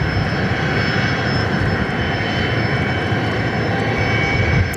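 A Boeing 737 MAX 8 arriving at Perth Airport on runway 06 from Brisbane gives a steady, loud, continuous engine roar at moderate distance, with no talk over it.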